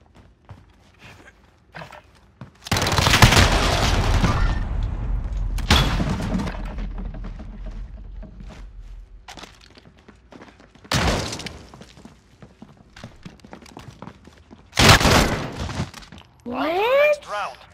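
Loud bursts of gunfire in a Call of Duty: Modern Warfare tournament match, including shotgun blasts, come in three separated volleys, with quieter clatter and movement sounds between them.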